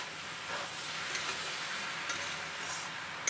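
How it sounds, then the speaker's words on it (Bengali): Taro curry being stirred in a pan, a soft steady sizzle with faint scraping and light clinks throughout, no voices. "এইভাবে আমরা আবারও নাড়াচাড়া করব।"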